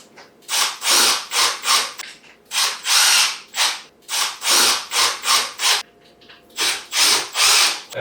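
Bolts on a wooden star-shaped cat wheel being driven tight with a power drill in repeated short whirring bursts, about a dozen in quick succession with brief pauses between, close and loud with no talking.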